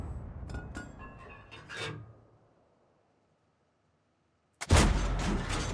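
An SU-85 tank destroyer in World of Tanks fires a lobbed shot, a sudden loud close cannon boom with a rumbling tail. It breaks a brief near-silence that follows some faint clatter.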